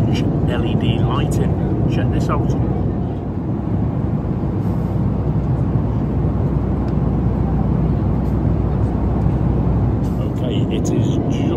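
A constant loud roar fills the cabin of an airliner coming in to land at Tenerife South Airport at night, a broad steady rumble with faint clicks and rattles above it and no break.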